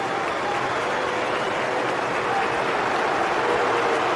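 Football crowd at England vs Senegal roaring after Bellingham's equalising goal, a dense, steady wall of cheering and applause that stays loud throughout.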